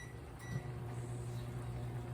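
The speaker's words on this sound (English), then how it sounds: "I'm going to put it in the microwave" A microwave oven runs while heating butter mixed with parsley flakes, giving a steady low mechanical hum with a faint whirring drone, close and unchanging throughout and free of speech.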